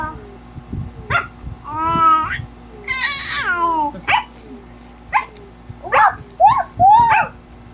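A small dog whimpers and yips in high, wavering cries, close by, with a person's voice mixed in between the sounds.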